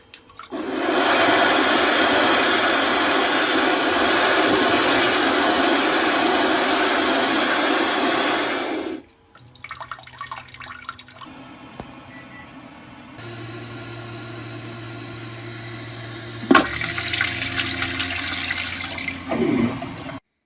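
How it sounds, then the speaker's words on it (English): A loud, steady rush of spraying water from a Casta Diva smart toilet bidet runs for several seconds, then clicks and beeps give way to the softer whirring fan of its dryer. "Here's a few clicks of the dryer and bidet in action."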